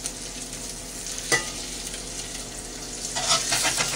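Eggs fry in a Lodge 10 inch cast iron pan with a close, steady sizzle. A sharp crackling burst comes partway through, and the spitting grows louder and busier toward the end.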